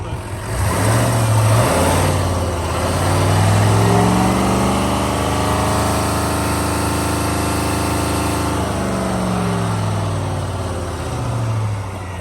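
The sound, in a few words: Chevrolet Silverado 2500 Duramax diesel engine revving to 3,500 RPM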